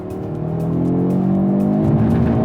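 Audi RS3 engine pulling hard on a race track, a loud continuous roar with rising harmonic pitch as it accelerates, close and steady throughout.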